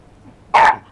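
A dog gives a single loud, sharp bark up close, indoors in a home with dogs and cats, after a short quiet stretch.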